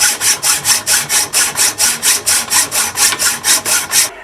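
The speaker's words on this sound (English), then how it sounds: "This is actually easier with a hacksaw." A hacksaw cuts through a seized bicycle stem in loud, regular back-and-forth strokes, about four per second, each a bright rasping swish, close up with no talking.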